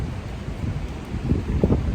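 Strong wind buffets the microphone outdoors at a local plant nursery, a steady low rumbling roar with gusty swells toward the end.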